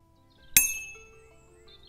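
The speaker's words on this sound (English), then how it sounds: "these are limestone monoliths with a small bell set in" A small bell set in a limestone monolith is struck once, a bright metallic clink followed by a long, clear, slowly fading ring close by.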